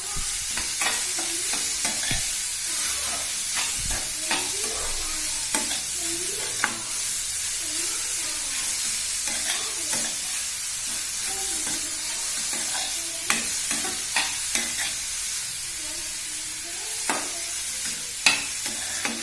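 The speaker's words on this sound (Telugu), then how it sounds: "పసుపు యాడ్ చేసి కలబెట్టాలి." Carrot fry stirred in a hot pan with turmeric, a spatula scraping and clacking against the pan in repeated strokes over a steady close sizzle, no talking.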